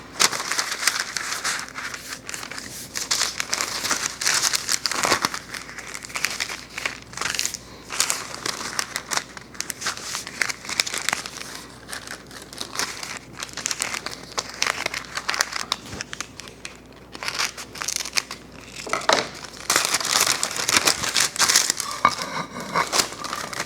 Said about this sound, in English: I'm going to prep it with some parchment paper and then lay the fish on to broil it